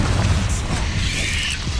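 Spell blast in Hogwarts Legacy, heard as a dense, sustained roar of crackling combat noise with a low rumbling boom and brief bright bursts, loud and continuous throughout.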